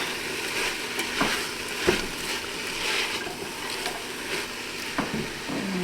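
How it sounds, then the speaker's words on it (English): Cabbage being stirred into a sausage soup in a pot, with wet scraping and sloshing strokes plus a few sharper knocks of the spoon, close and moderately quiet, no talk. "Just going to stir that up real quick."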